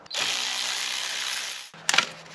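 A ratchet unbolts a 10 mm bolt on a 2006-2010 Subaru Legacy Outback engine: a loud, close, steady whirring run, a brief stop, then a short rattling burst.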